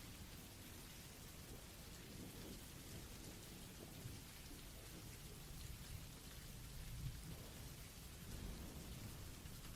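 Steady rain pours alone in a thunderstorm around a small village cabin at night, with low rumbles of thunder rolling under a dense, constant hiss.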